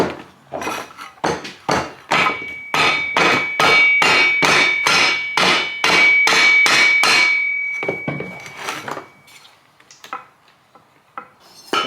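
A hammer pounds the clutch nut of an old chainsaw with a quick, steady run of about fifteen loud metallic blows. The strikes then slow into a few scattered taps.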